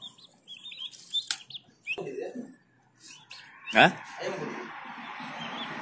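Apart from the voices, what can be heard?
turkey chicks chirping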